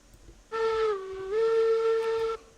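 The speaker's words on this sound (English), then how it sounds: "whistle is good" A steam locomotive whistle in the Railroads Online video game, a loud, clear tonal blast of about two seconds that dips slightly in pitch midway before rising again, heard alone.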